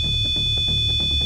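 A REM pod ghost detector in a house at night emits a loud, steady high electronic alarm tone that sounds continuously and alone throughout.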